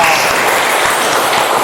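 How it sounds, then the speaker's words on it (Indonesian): Classmates in a school classroom clap for a group after its presentation, a loud, close, continuous burst of dense hand clapping over the whole short moment. "itu tepuk tangan dong buat temannya dong"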